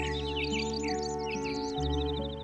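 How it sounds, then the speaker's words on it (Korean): Several birds chirp and tweet in a tree, with quick high calls repeating close by over sustained, steady musical tones. "이번엔 새들이 지저대는 나무 밑으로 조심스레 들어갑니다"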